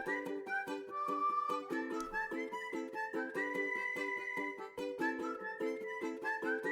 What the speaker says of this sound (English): So there's whistling, there's ukulele